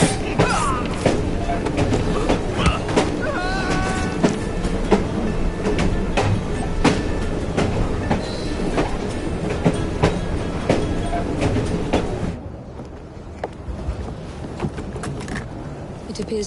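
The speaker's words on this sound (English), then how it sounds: "at least we have a train now" A train in the video game Assassin's Creed Syndicate, with loud rhythmic clattering and rumbling wheels, sharp metallic clicks and brief hooting tones, easing to a quieter rumble near the end.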